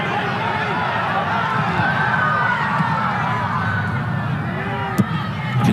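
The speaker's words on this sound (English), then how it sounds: "You can hear the crowd growing restless. The screams and shouts have come on." Soccer stadium crowd at a Duke vs. Clemson men's college match, a steady dense roar of distant screaming and shouting that stays loud and continuous throughout, with one brief sharp spike near the end.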